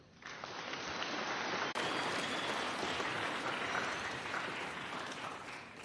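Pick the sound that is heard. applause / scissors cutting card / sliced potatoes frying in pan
applause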